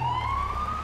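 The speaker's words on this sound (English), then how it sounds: "I can hear sirens." A siren wails steadily in the distance, heard from atop a bridge during a police patrol, its tone slowly rising over a low background rumble.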